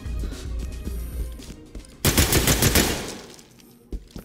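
Gunfire in the tactical shooter game Ready or Not, scattered single shots followed by a loud, dense automatic burst lasting about a second, then a few trailing shots, close and sharp with no talking.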